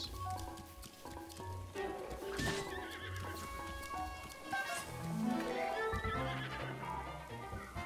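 A horse in Zelda: Breath of the Wild whinnies and clops over steady background game music, and the neighs rise clearly above the score. No one speaks.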